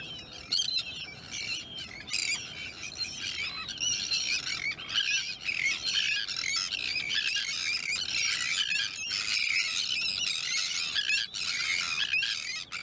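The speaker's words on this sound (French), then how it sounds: "Lorsque les sternes se sentent menacées, elles s'envolent toutes pour se défendre." A colony of terns takes to the air to defend their nesting ground, a dense continuous chorus of shrill, overlapping squeals and harsh squawks from many birds, loud and sustained with no voices.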